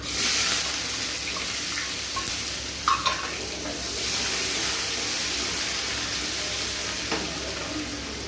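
Chopped onions with a pinch of asafoetida fry in a pan with a loud, continuous sizzle, a few spatula knocks and scrapes breaking through, and no talking.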